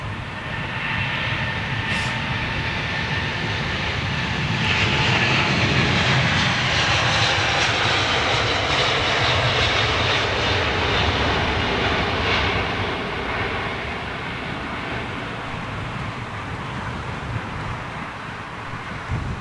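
Airliner jet engines roaring at London Heathrow airport, a loud, broad, sustained rumble and whine that swells midway and stays strong throughout, with some wind buffeting.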